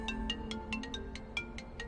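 A phone ringtone plays quietly, a rapid run of bright electronic beeps repeating in a quick, regular pattern, faint and alone in a quiet room.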